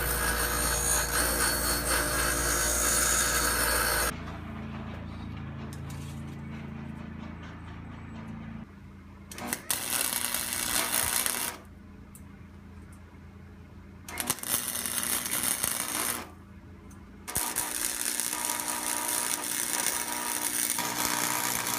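A power saw cuts 2.5-inch wood squares in bursts, loud whining cuts alternating with quieter stretches of low motor hum and handling noise.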